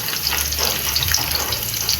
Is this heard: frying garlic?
yes